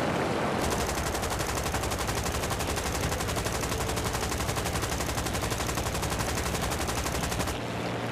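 Anti-aircraft machine gun fire in War Thunder roars as one sustained, dense, rapid stream of shots for about seven seconds, loud and continuous, then cuts off abruptly.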